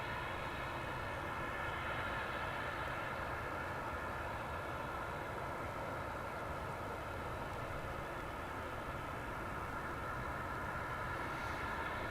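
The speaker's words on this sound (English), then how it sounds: "this massive aircraft will be pulling into the UPS cargo hub just to the south of where we are" A large cargo aircraft taxis toward the UPS hub at DFW Airport, its engines giving a steady, broad roar and whine that holds at even loudness throughout, with no talking.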